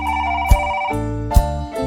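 A telephone rings with a bright, repeating electronic trill, interrupted by sharp knocks. The sound is near and steady, with no voices.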